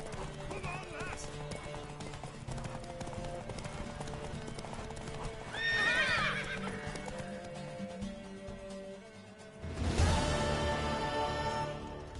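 Horse hooves clip-clop at a gallop in The Witcher 3, with a loud neigh breaking in midway and a burst of horse whinnying near the end, all over game music and character voices talking.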